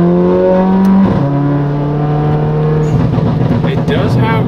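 A loud wide-body Mercedes CLA 45 AMG accelerates close by, its engine note holding steady, dropping in pitch at a shift, then climbing again with a raspy, rising tone over rubbing tires.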